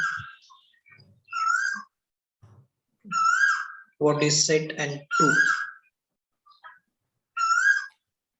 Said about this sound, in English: I can hear beautiful bird sound